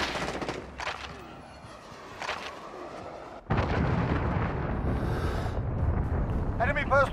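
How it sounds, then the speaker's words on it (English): A heavy missile explosion in Call of Duty: Modern Warfare lands with a sudden loud blast midway, followed by a sustained rumbling roar and scattered gunfire, with faint game radio chatter earlier. "Missile incoming, take cover."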